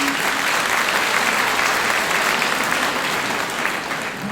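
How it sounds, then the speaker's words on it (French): A seated audience at an evening public meeting breaks into a dense, steady round of applause, loud and sustained, easing slightly at the end. "On l'applaudit."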